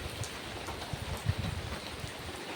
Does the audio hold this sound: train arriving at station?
no